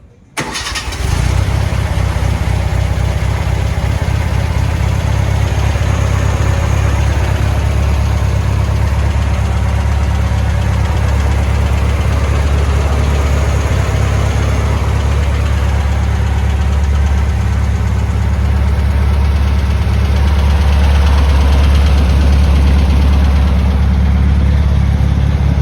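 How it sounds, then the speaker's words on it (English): The VW engine in a 1965 Fiberfab Avenger GT-12 cranks and catches in about a second, then settles into a loud, close, steady idle with a low throb. It revs slightly near the end. "this VW engine looks really like it's in the right place. Yeah, let's get it started."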